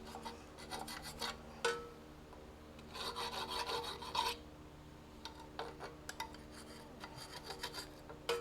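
Hand file rasping a burr off metal in a garage workshop, in repeated short bursts of strokes with brief pauses between, close and fairly quiet, with no talking.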